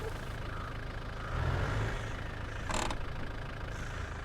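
A truck engine idles in SnowRunner, a steady low rumble that swells briefly partway through, with a short hiss like an air brake release near the end and no talk.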